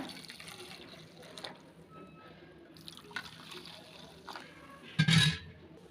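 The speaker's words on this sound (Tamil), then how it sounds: "இப்போ தண்ணி சேர்த்துக்கலாம்." Water is poured into a seaweed jelly mixture tinted with green and orange food colouring, with light trickles and small splashes followed by a short, louder gush near the end.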